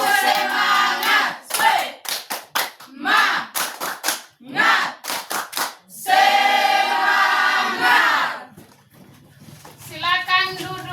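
A group, seemingly including children, performs a rhythmic spirit clap, sharp bursts of clapping in quick counted patterns alternating with loud group chanting, then a long sustained shout and another short clap run.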